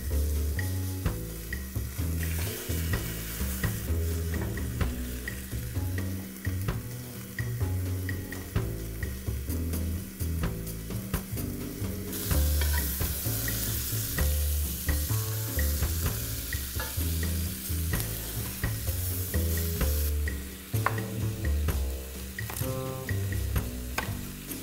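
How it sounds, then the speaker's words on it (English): Oxtails roasting in a very hot rondeau pan, a loud, sustained sizzle and spatter with rhythmic crackling pops, intensifying partway through and staying close with no voices. "you're going to add them to a very hot pan, ideally a rondeau like I have here, and begin to roast them off"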